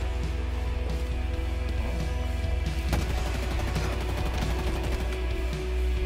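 Warzone video game combat plays out as a dense, loud stream of rapid gunshots and automatic fire, with a sharper crack midway and a constant rumble underneath, and no speech.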